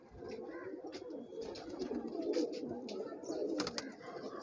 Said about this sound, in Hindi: ये महेश भाई के हाथ में जो है कबूतरी आई है